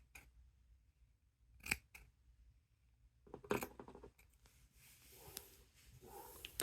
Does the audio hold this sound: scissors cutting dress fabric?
yes